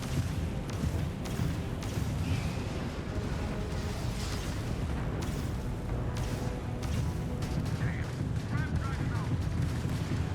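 Pirate ship weapons firing during a space battle in the video game Starfield: a dense, continuous barrage of booming shots and rumbling blasts, loud and sustained throughout with no break.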